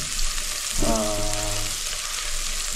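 Chopped onions and garlic fry in oil in a pan with a continuous, even sizzle; a short tonal hum rises briefly partway through.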